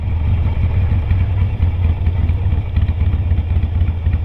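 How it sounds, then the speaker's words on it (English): Harley-Davidson Sportster motorcycle engine running steadily at close range, a loud, continuous low throbbing rumble with a slight mechanical clatter and no talk. "I'm on a motorbike."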